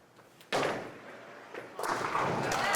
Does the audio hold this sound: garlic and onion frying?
no